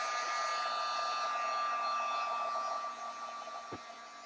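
A heat tool blowing steadily while heat-setting paint on a mixed media card, a close, constant whirring hiss with a tonal whine, easing slightly quieter near the end, with no speech.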